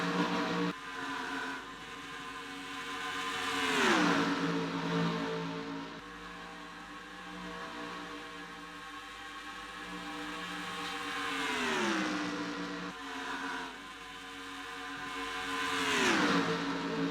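Several NASCAR Craftsman Cup race cars pass during qualifying at Atlanta, each engine roaring in with a falling pitch sweep as it goes by. Three loud passes come at a regular interval, with a steady motor drone between them and no talk.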